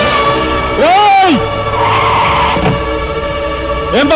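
Tyres squeal loudly as a car skids in a Telugu movie scene, with a rising and falling screech, an engine underneath and a second brief squeal near the end.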